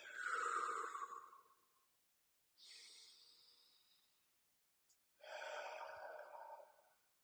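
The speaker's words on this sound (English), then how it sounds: "It's just a rhythmic breath in and out." Three slow, rhythmic breaths, drawn in through the nose and released out of the mouth, sound close and soft, each a long airy rush separated by brief silences.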